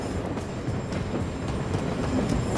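In the video game Warzone, a train rumbles past with a steady rolling clatter of wheels on rails, loud and continuous throughout.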